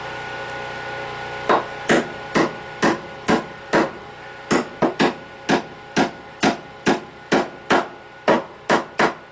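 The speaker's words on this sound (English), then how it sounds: "I'll pound those other two in with a hammer" About eighteen sharp hammer blows pound stakes in a steady rhythm, close and loud, after a short quiet start.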